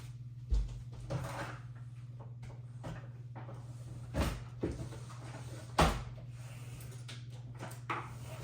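Kitchen drawers slide open and shut several times in an indoor home setting, giving a handful of separate wooden thumps and rubbing scrapes at uneven intervals over a steady low hum, moderately close and without talk.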